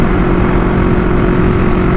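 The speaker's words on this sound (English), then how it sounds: "It's hard to hear the airbox with the exhaust because the exhaust is just so loud." A Yamaha MT-03 motorcycle fitted with a full Akrapovic exhaust gives a loud, steady, close engine drone with low harmonic banding, holding constant throughout with no talk.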